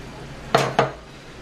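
Frozen shrimp stirred into boiling coconut curry sauce in a pot, two quick close clinks and scrapes of a utensil against the pan over a faint simmer.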